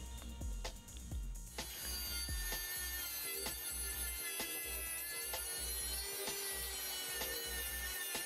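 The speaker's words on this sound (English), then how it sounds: "After cutting with the Dremel" A Dremel rotary tool cuts small metal brackets for a DIY studio light, giving a steady high-pitched whine with rhythmic grinding strokes and a low repeating thump throughout, close and fairly quiet.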